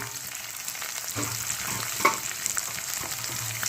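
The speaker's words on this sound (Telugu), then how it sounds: "ఫ్రై చేసుకోవాలండి. ఇది కొంచెం టైం పడుతుంది ఫ్రై అవ్వడానికి." Finely chopped onion and green chillies frying in a pan, an even crackling sizzle throughout with light stirring scrapes and a small clink partway; no one speaks.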